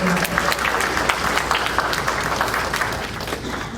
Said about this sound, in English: How about a round of applause for our superintendent?